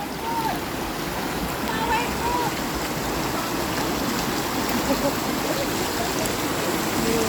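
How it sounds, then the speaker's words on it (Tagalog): Strong water of the Tung Chung River in Hong Kong rushing over rocks: a loud, steady, close roar with splashing texture that holds without pause. "Tubig sa kabatuhan. Da, lakas ng tubig."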